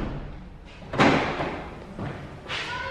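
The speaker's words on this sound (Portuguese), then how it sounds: "vou trancar as portas." A couple of dull thuds and clunks, like car doors shutting and locking, with a brief pause between them; a short electronic chirp follows.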